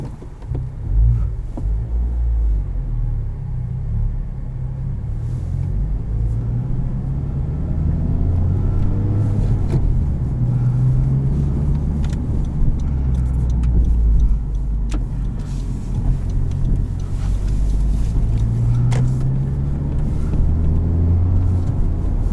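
A 2019 Honda Civic Type R engine hums and rumbles steadily from inside the cabin while driving, with a low drone that rises and falls gently through gear changes and no talking.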